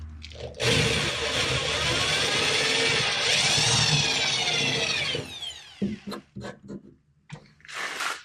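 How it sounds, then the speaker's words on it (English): A power drill whines loudly for about five seconds, its pitch wavering as it drills out rivets on an Austin-Healey, followed by a few short bursts and clunks. "So I'm not drilling them too terribly deep."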